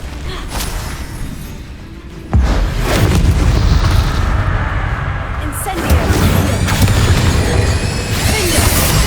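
A fire spell cast in the video game Hogwarts Legacy bursts out as a loud, booming blast, followed by a sustained roaring rumble, with a second surge of crackling impact noise a few seconds later and a voice calling out over the top.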